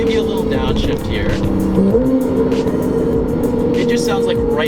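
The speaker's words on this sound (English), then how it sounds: "It just sounds like rifle shots through the exhaust." A TechArt Porsche 911 GTS (991) exhaust in Sport Plus mode, rumbling steadily from inside the car with a shift in engine pitch on a downshift partway through, loud and continuous, with some talk over it.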